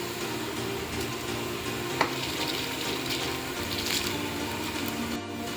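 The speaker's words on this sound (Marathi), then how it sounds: "पाण्याला उकळी आली आहे, आता आपण तांदूळ टाकूया त्याच्यामध्ये।" Rice poured into a pot of boiling water for chicken dum biryani, giving a steady close bubbling, seething wash with a small knock partway through and no talking.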